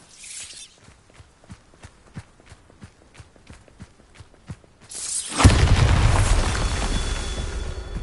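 In the Hogwarts Legacy video game, a run of quick footsteps gives way to a sudden loud Bombarda spell explosion, a deep boom followed by a long rumbling decay.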